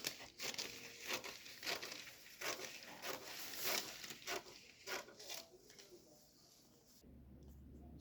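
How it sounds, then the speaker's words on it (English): Scissors crunch through ladies' trouser fabric in a series of repeated short snips and rustles, close and quiet, ending with a brief low hum. "So now I'm going to cut it round."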